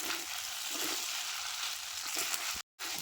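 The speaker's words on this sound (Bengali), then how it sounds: "এই মশলা দিয়ে এখন ভালো করে একটু নাড়ে চেড়ে মিশাই নেবো" Chicken pasta with pasta masala stirred in a frying pan, a steady close sizzle with soft scraping under it, cut by a brief silent gap near the end.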